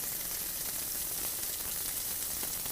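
A quieter, even sizzle of chicken frying on medium heat, a steady hiss with faint crackles running throughout.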